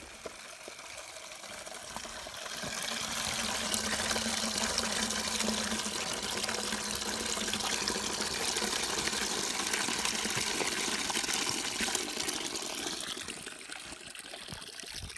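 Brown slurry water pouring out of the outlet of a homemade biogas digester, a close, steady gushing trickle that swells after a couple of seconds, runs strong and continuous, then eases off near the end.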